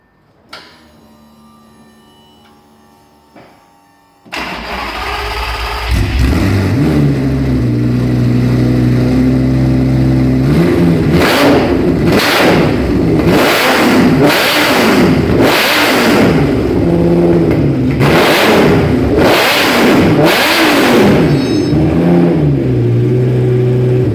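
A Lamborghini Gallardo V10 sits quiet for a few seconds, then starts with a loud bark and settles into a heavy, close idle. A run of sharp, roaring throttle blips follows, each rising and falling in quick succession.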